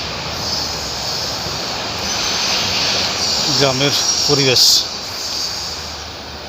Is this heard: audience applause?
no